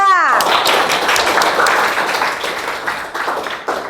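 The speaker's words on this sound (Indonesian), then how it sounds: "Oke, kita aplaus untuk kelompok 3." Classroom audience clapping for a student group after their presentation in a school lesson, a dense burst of many hands filling the clip, strongest at the start and thinning slightly toward the end.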